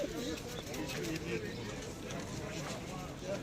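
Pigeons coo softly and repeatedly at a busy Istanbul bird market, Edirnekapı, the low warbling calls set against a dense murmur of crowd noise and nearby talking.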